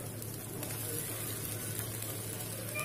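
Sabudana drops into a pan of potatoes already fried, and the pan gives off a soft, faint sizzle and crackle that stays low and continuous.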